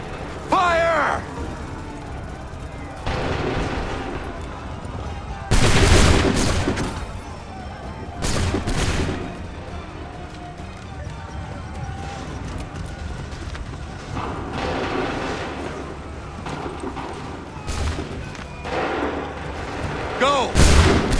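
Battle of Bunker Hill in Assassin's Creed 3, with musket volleys and heavy cannon blasts booming at intervals over continuous battlefield noise, with shouted orders among the fighters.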